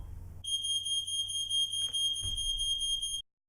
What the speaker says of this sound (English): That alarm goes off one more time.